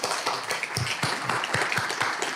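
Audience applause at the launch of an art exhibition on Yinyuan Longqi and Ōbaku art, a brief burst of dense, close clapping with uneven rhythm.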